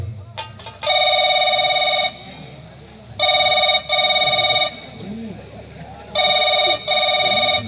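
A telephone rings loudly in repeated double bursts with short gaps between them, over a low background murmur.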